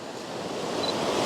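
Sea waves washing onto a shore, a steady broad roar of surf and white water with wind noise on the microphone, continuous and fairly close throughout.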